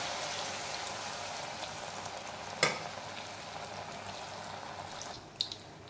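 Rava paniyaram batter made with rava and maida fries in a pan with a steady, soft bubbling sizzle. Two light utensil clicks sound briefly over it.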